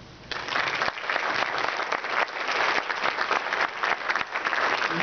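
An audience at an evening Common Core forum in Arizona claps to welcome the speakers, giving steady, sustained applause from a sizable crowd, loud and unbroken for several seconds.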